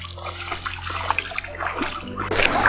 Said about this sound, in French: le bruit de l'eau